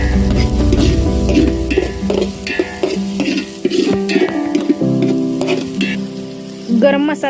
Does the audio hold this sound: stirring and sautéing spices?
yes